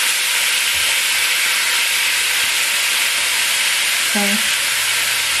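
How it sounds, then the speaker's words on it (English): Loud, steady sizzle and hiss of pho ingredients sautéing in a pan, a broad continuous frying roar throughout, with a brief spoken word near the end. "I know it's loud, but you're going to want to just saute it here"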